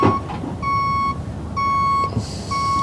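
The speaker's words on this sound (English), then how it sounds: "that is one loud ass beep" A reversing van sounds loud, steady electronic beeps, three long evenly spaced tones close by over low background rumble.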